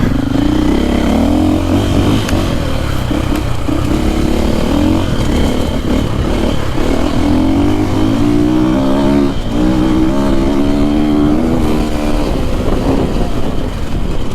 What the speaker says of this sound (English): This bike it's got the cone in the muffler, so it's kind of quiet.